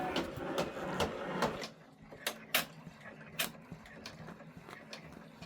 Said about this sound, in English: I'm going to say okay, embroidery, unlock, and stitch